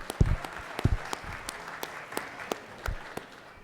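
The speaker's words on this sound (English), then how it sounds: "Let's give them a round of applause," Applause in a state legislative chamber for the pages, a moderate spread of clapping from the floor with a few louder thumps and bumps from people nearby.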